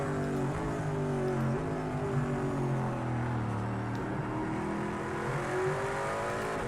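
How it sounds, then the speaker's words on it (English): Racing cars including a Ferrari GT1 roar past in the Project CARS 2 racing game, classic Rolex 24 endurance race, with layered engine drones shifting in pitch continuously and loudly throughout. "the GT1 Ferrari just passed the P900 Ferrari"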